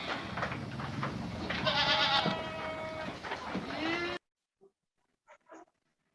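Sheep on a breeding farm bleat loudly and repeatedly at close range, overlapping in a busy chorus for about four seconds before the sound cuts to near silence with a few faint distant calls.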